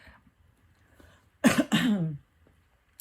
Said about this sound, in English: how often I'm like trying to clear my throat now